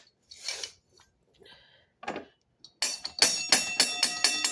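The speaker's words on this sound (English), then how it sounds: "That's like a press bell, like a desk bell, but look at the size." A heavy, solid hammered brass desk bell, oversized with a base almost seven inches across, is struck several times in quick succession after a few quiet handling noises, each ring bright and close and overlapping the last.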